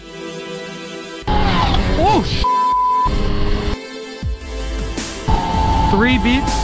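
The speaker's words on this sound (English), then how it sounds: "Three beeps and then go." Three electronic diagnostic beeps from a Yamaha ring out at a steady pitch, each held briefly, over a noisy background with vehicle hum and voices in the room.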